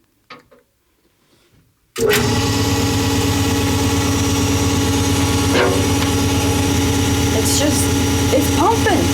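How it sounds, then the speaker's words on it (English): After near-silence, a hydraulic oil feed pump for a Rambold turret lathe starts abruptly and runs with a loud, steady humming drone, holding constant to the end with faint higher whines above it. "It's pumping. That's just all it's doing."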